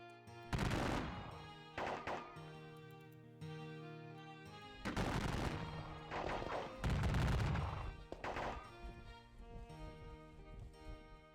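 Volleys of musket and artillery fire from the Battle of Gettysburg war game crash in irregular bursts, several loud rolling salvos with short gaps between them, and no talking.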